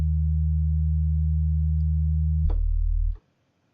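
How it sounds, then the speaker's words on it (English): A low, steady synth sine tone holds a deep bass pitch, dropping lower near the end before cutting off abruptly with a faint click. "it just kind of starts off with simple sine wave, but it's pretty low"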